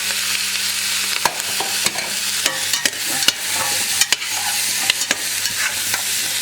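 Leek and carrots sizzle in a steamy soup pot for homemade potato soup, a steady close frying hiss broken by sharp clicks and scrapes of stirring.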